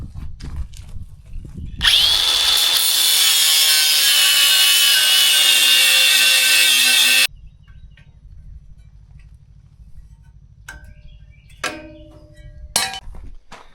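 A power tool cuts welds off a steel swingout tire carrier, a loud, steady high-pitched grinding whine lasting several seconds, then stopping abruptly, followed by quieter hum and a few short clanks and scrapes.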